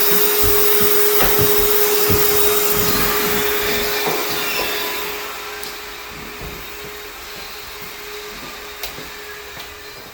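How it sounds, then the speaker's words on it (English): A vacuum cleaner fitted with a small brush attachment runs continuously while cabinets are cleaned during a move-in house cleaning, a steady close whine and roar that drops slightly in level partway through, with no voices. "She's using an attachment, small brush, to vacuum all the cabinets."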